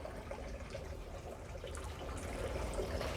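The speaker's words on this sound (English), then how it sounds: "Oh, it's got her fountain going." Water trickles from a garden fountain on a dark patio, a faint continuous splashing and dribbling with a low steady background hum, no voices.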